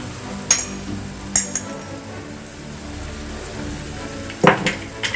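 Spices sizzling in a pan for egg lababdar, a steady soft frying hiss running throughout, broken by a few sharp metallic clinks of a utensil against the pan.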